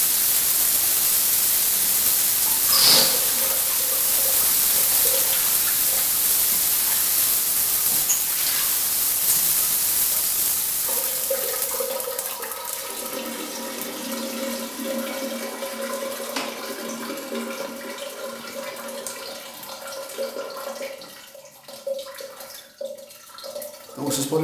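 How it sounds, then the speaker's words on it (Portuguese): Shower water pours onto a sloped tiled bathroom floor inside a shower box and runs toward the drain, a steady hiss of splashing that fades into quieter trickling, with a voice speaking over it at times. "Vocês podem observar aí que a água não para"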